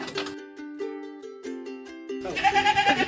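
A goat or sheep bleats in several wavering, nasal calls close by, followed by a louder, rougher burst of bleating from the animals.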